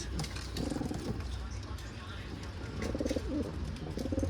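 A male Keşpir pigeon coos in courtship, with repeated low, throaty rolling calls coming in short bursts close by while someone talks over them.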